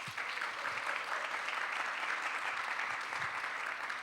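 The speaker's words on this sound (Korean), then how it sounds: "박수로 앞으로 청해 듣겠습니다" A church audience at a Sunday youth service applauds steadily to welcome a speaker forward, a dense, even patter of many hands clapping close by for a few seconds.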